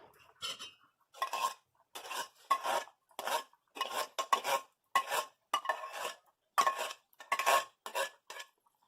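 Coconut milk batter for a cassava cake is mixed in a bowl with a utensil, about a dozen rhythmic scraping and clinking strokes, close and distinct, with quiet gaps between them and no talking.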